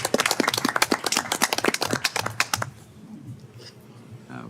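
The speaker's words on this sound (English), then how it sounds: "I feel like we need to give everybody a round of applause" A roomful of people at a board of education meeting claps sharply and unevenly for new district staff for under three seconds, then the clapping stops and quiet room noise remains.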